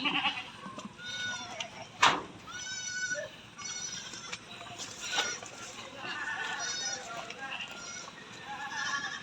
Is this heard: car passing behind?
no